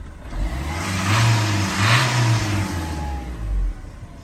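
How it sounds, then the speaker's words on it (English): A Fiat Doblo van engine idles and revs up twice in close, steady mid-range pulses, swelling and easing back in a healthy-sounding run with no voices over it. "Engine sounds really healthy."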